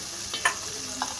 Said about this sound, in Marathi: कांदा तळसतो.